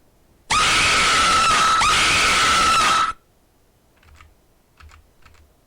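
A loud, harsh scream sound effect from The Last of Us blasts for about two and a half seconds and then cuts off abruptly, followed by quiet keyboard typing clicks.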